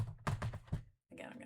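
Computer keyboard keys clacking in a short rapid burst, a pause, then softer continued tapping, close and moderately loud, with a voice talking over part of it.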